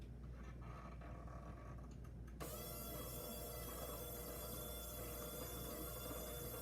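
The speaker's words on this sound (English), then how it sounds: "I'm going to use the hand mixer this time" An electric hand mixer whips icing made from powdered sugar in a bowl. Its steady motor whine cuts in a couple of seconds into the clip and runs loud and unbroken to the end.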